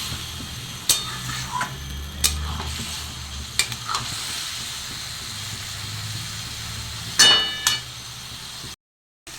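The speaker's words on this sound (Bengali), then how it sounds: "এটাকে সমানে এইভাবে ওপর থেকে নিচ থেকে ওপরে এইভাবে নাড়তে হবে" Mushroom curry with potato stirred in a pan, with repeated scraping strokes and a soft sizzle underneath, plus a low steady hum in the background and a sharper clatter near the end before the sound cuts out.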